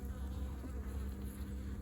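A horizontal jumbo Langstroth hive hums with honey bees, an even, close buzz with no voices over it.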